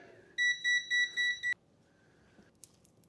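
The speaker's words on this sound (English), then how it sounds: "Absolutely hate the beeping noise on a multimeter." Five quick electronic beeps from a multimeter in a steady rhythm, clear and close, then near silence with a faint click.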